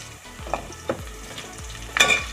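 Curry leaves fry with green chillies in a pan for chicken curry pulao, a continuous sizzle broken by several spoon scrapes and a louder clink near the end, heard up close without speech.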